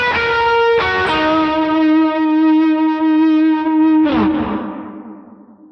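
An electric guitar run through drive, echo and chorus effects plays a sustained, saxophone-like lead line for a worship tune, holding one bright note before sliding to a new one that rings out and fades.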